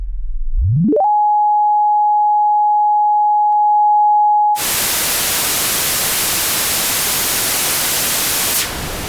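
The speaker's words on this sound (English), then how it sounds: "This transmits pink or white noise you often might associate with snow on the television screen" A pure tone sweeps up and holds steadily, then cuts to a loud, continuous hissing pink or white noise test signal like television static, which runs on before dropping slightly.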